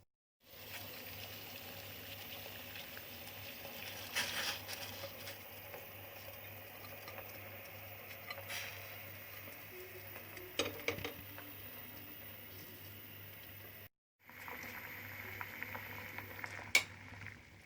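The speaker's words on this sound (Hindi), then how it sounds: "कद्दू को उबलते हुए पानी में सिर्फ 1 मिनट पकाएंगे" Chopped bottle gourd simmers in a pot of boiling water in a home kitchen, giving a steady faint bubbling hiss with occasional light clinks, broken by a brief silence near the end.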